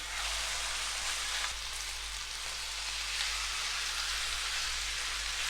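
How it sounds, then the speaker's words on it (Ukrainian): Chicken fillet fries in a little oil in a pan on the stove, giving a steady, close hiss of sizzling that holds evenly throughout with no voices. "Ставимо сковорідку на вогонь, додаємо трішки олійки і смажимо нашу курочку."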